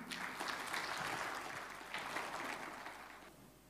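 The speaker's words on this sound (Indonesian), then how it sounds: "Boleh kita kasih tepuk tangan buat Bu Irene?" An audience applauds for a guest speaker at a gathering, a soft, distant, steady patter of many hands lasting a few seconds before it fades out.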